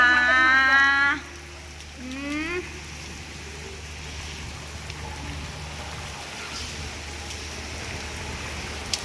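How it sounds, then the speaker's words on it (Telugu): Heavy rain falls near a house as a steady, dense hiss. A voice speaks briefly at the start before the rain carries on alone. "ఈరోజు వాన పడుతుంది అన్నమాట మా ఇంటి దగ్గర."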